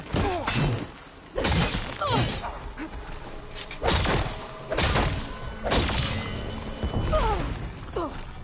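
Explosions in the video game Horizon Forbidden West: a series of loud, sharp blasts and shattering bursts repeat every second or so, with whooshes and a voice talking between them.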